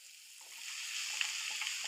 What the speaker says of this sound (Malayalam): ലോ ടു മീഡിയം ഫ്ലെയിമിൽ വെച്ചാണ് ഞാനിത് വഴറ്റിയെടുക്കുന്നത്.